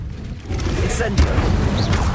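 Incendio fire spell cast in Hogwarts Legacy, a deep booming burst with crackling rumble and a few bright magical tones, while a voice speaks over it.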